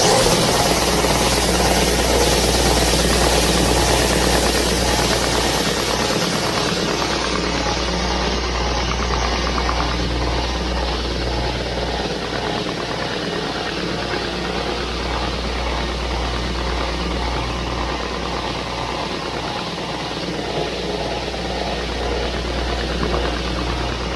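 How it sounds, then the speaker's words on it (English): A power sander whirs loudly and steadily on a wooden workpiece, a dense continuous grinding drone that runs without a break, with no talking. "Now I'll sand that to where I want it."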